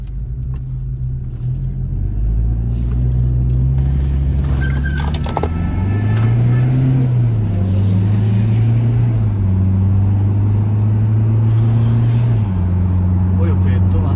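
A Toyota Innova Reborn fitted with an RGN Performance aftermarket exhaust drives on the road, its loud, steady engine drone rising and falling with throttle changes. People talk inside the car over the engine.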